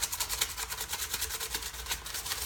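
A brush rubs paint onto EVA foam armour in quick, rhythmic scrubbing strokes, close and moderately loud, with no voices.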